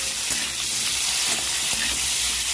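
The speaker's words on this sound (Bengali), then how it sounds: "তেলটা গরম হয়ে গেছে, গোটা জিরেটা দিয়ে দেবো, কুমড়োটা দিয়ে দেবো, ভালো করে কুমড়োটা ভেজে নেবো" Pumpkin fries in hot oil with whole cumin seeds, giving a loud, dense sizzle close by, with occasional stirring scrapes and no voices.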